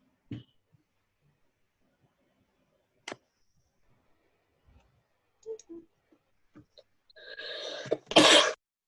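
A single sharp sneeze bursts out near the end of a quiet stretch in an online math class, preceded by scattered faint clicks and small noises.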